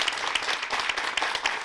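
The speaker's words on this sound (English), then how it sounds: "Can we all give her a big round of applause?" An audience applauds during a weight-loss talk show, a steady wash of many hands clapping with small peaks, close and fairly loud, with no voices over it.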